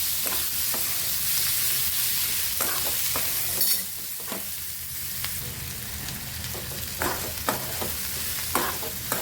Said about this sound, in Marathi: टोमॅटो मऊ होईपर्यंत परतून घ्यायचं